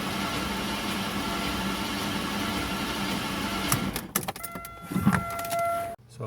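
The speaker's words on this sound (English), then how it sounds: "I should be able to just start cranking" A 1994 Jaguar XJS V12 engine cranks with a steady, continuous whirring drone for about four seconds, then falls into irregular clunks and brief hisses before stopping, close by.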